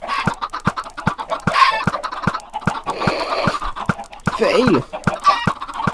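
Chickens cluck repeatedly in a Minecraft chicken farm, with bursts of fowl calls over a regular rhythmic ticking, and one brief spoken word near the start.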